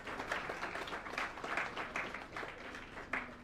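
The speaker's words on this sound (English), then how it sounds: "Huge round of applause, please." Distant, fairly quiet applause from an audience at a research institute's jubilee celebration, a steady patter of many hands clapping.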